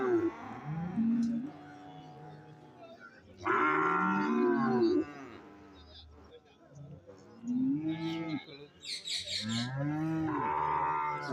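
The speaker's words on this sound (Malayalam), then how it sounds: "ഇവിടെ നല്ല പോത്തുകൾ കുടിപ്പോത്ത് കൊണ്ട് നൂരി പൈക്കുട്ടി എല്ലാം" Buffaloes and cattle at a festival cattle market moo repeatedly in long, loud, close calls, several overlapping, with background crowd noise between them.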